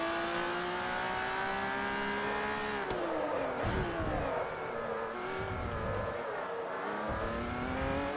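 A yellow Ferrari race car in Forza Motorsport 3 roars close behind, its engine note climbing steadily through the gears, dipping on shifts and braking, then surging again with a brief tire scrub, loud and continuous.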